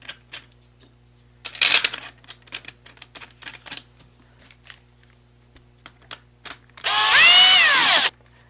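A power drill drives bolts while a deadbolt lock is installed, whining loud and close in a single sustained burst near the end, after scattered light taps and handling clicks.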